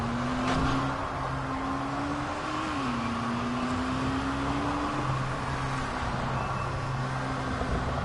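Car engine driving in the video game Dying Light, a steady droning hum with a slowly shifting pitch that dips and rises slightly, continuous and fairly loud throughout with no voices.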